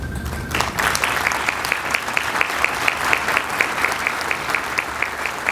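An audience at a policy forum applauds elected officials who stand to be recognised, a steady, fairly loud wash of clapping that starts abruptly and continues evenly throughout.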